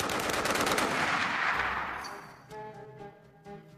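Browning Automatic Rifle (BAR) firing a sustained burst of rapid, booming shots with a heavy report, then fading into echoing decay and a few softer trailing thumps.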